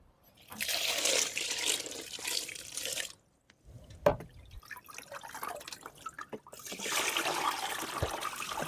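Cups being washed under running water at a home sink, with bursts of splashing and pouring that pause briefly midway, clatter once, then resume steadily.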